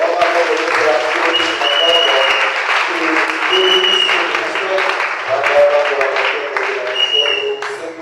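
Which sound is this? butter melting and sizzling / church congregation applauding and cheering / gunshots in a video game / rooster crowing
church congregation applauding and cheering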